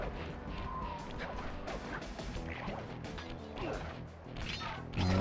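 Dog barking and being knocked out in the Sly Cooper video game: a dense game mix of yips, barks and crashing smacks, with a heavier impact near the end.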